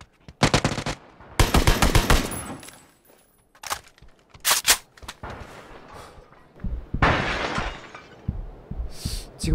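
Bursts of rapid automatic gunfire crackle through a shooting video game, several loud sharp volleys separated by short pauses, with glassy shattering and impact clatter mixed between them.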